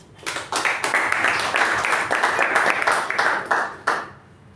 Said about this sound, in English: Let's give a huge round of applause for Toastmaster Ujwal.